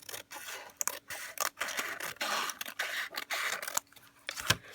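Scissors snip repeatedly through Mod Podged paper in short irregular cuts, close and fairly quiet, with soft rustling between strokes.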